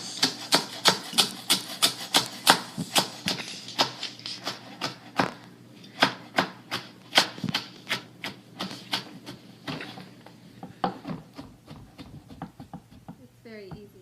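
Old kimchi chopped with a knife on a cutting board, rapid rhythmic knocks repeating closely in steady bursts, loud and near, thinning out toward the end.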